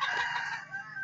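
Gamefowl hen of Shelton Roundhead and Sweater lines, crowing and clucking close by for about a second with no other sound, a strong and steady call.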